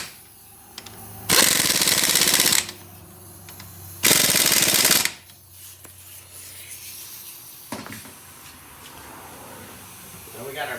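Air impact wrench tightening front brake caliper bolts on a 2003 Bravada Trailblazer, with two loud, sustained bursts of hammering rattle, each a second or so long, then quieter clinks and shop noise afterward.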